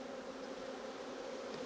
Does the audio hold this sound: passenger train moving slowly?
no